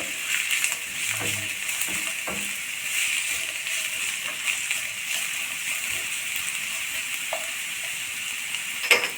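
Chopped beans sautéing in a pan for veg cutlet, steady sizzling hiss with occasional stirring scrapes and clinks of a utensil, close and continuous.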